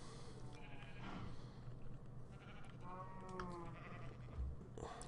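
Sheep bleat in a video game, several wavering calls rising over a steady backdrop of game ambience and music, close and fairly clear, with no talking.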